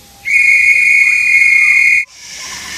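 A loud, shrill whistle blows in one sustained blast for nearly two seconds, then cuts off abruptly into a soft hiss.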